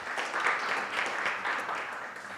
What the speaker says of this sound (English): please let's give him a round of applause as he comes.